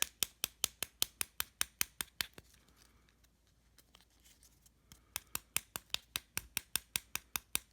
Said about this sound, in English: I'm just going to use the edges of my scissors and I'm going to tap those smooth.